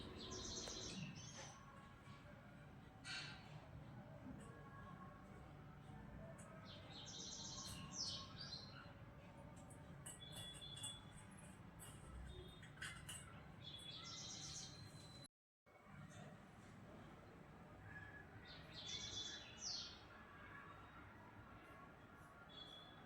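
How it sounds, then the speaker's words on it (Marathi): Sparrows chirp repeatedly in the background, quick bright tweets scattered over a steady low rumble, faint and somewhat distant. "तुम्ही पाहू शकता बॅकग्राऊंडला किती चिमण्याचा वगैरे आवाज येत आहे"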